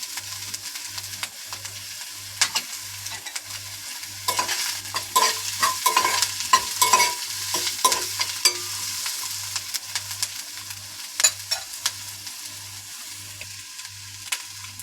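Chopped green chilies and garlic cloves frying in a pan for Andhra-style raw banana masala balls, with a steady close sizzle broken by frequent scraping stirs and clatter, over a low pulsing hum.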